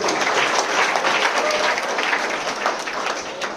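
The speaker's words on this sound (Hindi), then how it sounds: "इस बच्ची के लिए ताली बजाइए" An audience at a school inter-house Hindi debate competition applauds a young girl student, with steady, dense clapping that fills the room and eases slightly toward the end.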